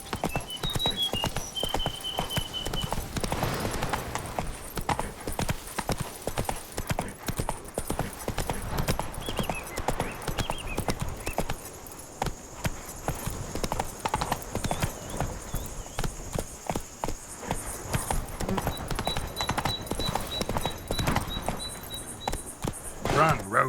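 The horse Roach galloping in The Witcher 3: Blood and Wine, next-gen update, with a continuous rapid drumming of hooves that runs the whole time and an occasional whinny, all over game music and other ambient game sound.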